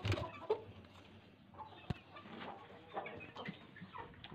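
Hens clucking softly in a backyard coop where other hens are laying eggs, scattered low clucks and rustling at moderate distance with no one talking.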